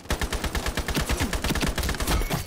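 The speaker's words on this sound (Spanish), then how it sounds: "Escuché un disparo, ahí está." Rapid gunfire in the online shooter Ironsight, a dense run of loud, close bursts with repeated sharp reports across the whole stretch, no voices.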